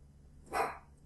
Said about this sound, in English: my dog is going to bark.